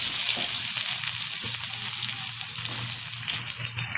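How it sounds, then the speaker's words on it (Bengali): Chopped onion fries in hot oil with whole cumin and mustard seeds for misal, a loud, steady, close hiss of sizzling that runs throughout with a few soft stirring knocks and no speech. "পেঁয়াজটা একটু হালকা ভেজে নেব"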